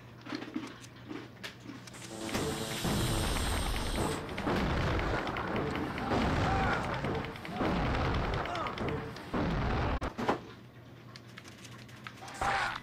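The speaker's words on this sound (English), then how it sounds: "Wow, I used all 15 rounds of the grenade launcher." Grenade launcher fired repeatedly in The Thing video game, producing loud, sustained booming blasts and explosions that merge into a dense roar for several seconds.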